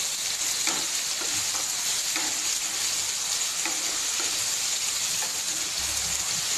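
Fenugreek seeds and raw mango are stirred in hot oil for an instant mango pickle. A continuous, fairly quiet sizzle runs throughout, with soft, irregular taps and scrapes from the stirring.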